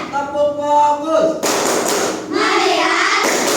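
Children in a classroom clap in a rhythmic counting game, a burst of broadband claps and thumps arriving in groups after a voice, fairly loud and close with slight room echo.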